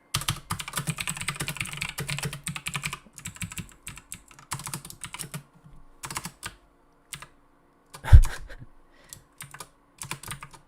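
Typing on a computer keyboard set to a UK layout, in bursts of rapid clicking with pauses between, close and fairly loud, with one sharper thump near the end.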